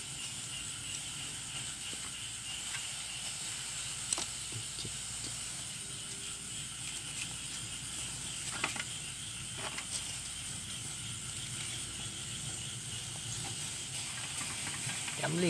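Honey-glazed sparrows grilling over a small fire give off a steady, soft sizzling hiss, with faint crackles and a few light ticks and taps throughout.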